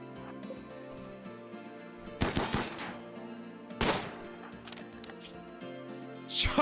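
Charge rifle fire in RimWorld, a few sharp crackling bursts spaced apart around two, four and six seconds over a steady low game hum, moderately loud, with no talking.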